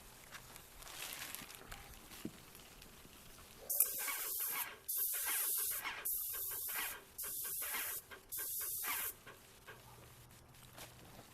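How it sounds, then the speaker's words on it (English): A paint sprayer spraying paint on a house, several loud hissing bursts in a row separated by short pauses, close by, with a quiet stretch before and after. "Now that we have the sprayer set up, let me show you some proper spray techniques"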